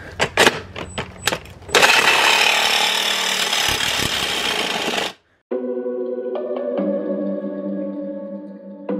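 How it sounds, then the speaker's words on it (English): A power tool cuts the resonator off a BMW exhaust pipe, loud dense grinding that runs for several seconds after a few sharp starting bursts, then gives way to a steadier tonal whine. "Now we've just got to cut the resonator off the other pipe"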